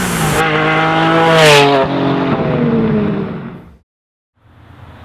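A Porsche 718 Cayman GT4 fitted with a FabSpeed competition exhaust and GPF delete pipes starts up close by: a sharp cranking catch, a loud rising rev flare, a throbbing idle that drops away, then the engine rumbling back in.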